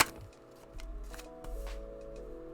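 Tarot cards being shuffled by hand, a soft papery riffle with a few light flutters and taps, close and quiet, faint music or tones lingering underneath.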